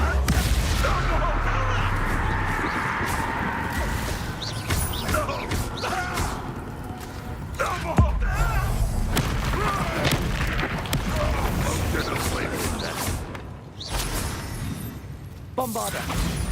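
Bombarda spell explosions in the Hogwarts Legacy video game, repeated booming blasts and crashing impacts amid busy combat noise, with a voice talking over much of it.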